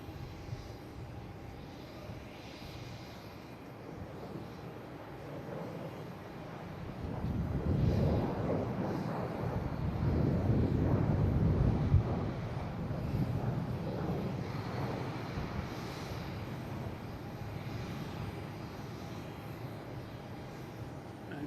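A Delta Embraer E175 regional jet takes off at Boston Logan International Airport, its engine roar rising from a distance, peaking, then fading, with some wind noise and no talking.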